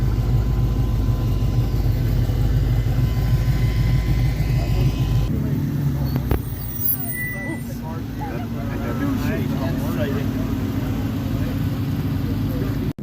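A red Ford Ranger rally car with anti-lag at a rally stage, a loud sustained engine roar that shifts midway into a rougher, crackling drone, heard close throughout with people talking underneath.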